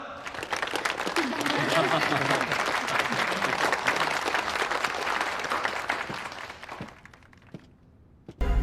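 A seated audience claps for Commissioner Xu as he is called up to speak, dense sustained applause for about six seconds that then thins and fades, with voices mixed in.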